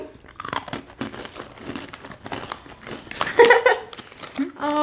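Crunchy caramel crunch cereal being bitten and chewed up close, with repeated brittle crackles and crunches and a bit of talk mixed in.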